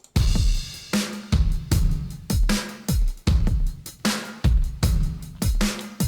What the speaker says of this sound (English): So the drums separately, soloed out, sound like this.